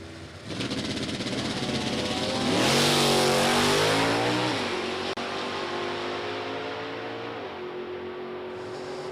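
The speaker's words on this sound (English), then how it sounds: "Small block Camaro, the H-stock automatic entry." A small-block Camaro H-stock automatic entry and its rival launch at a drag strip, loud engines roaring up through the gears with rising, shifting revs, then a lower steady drone as the cars pull away.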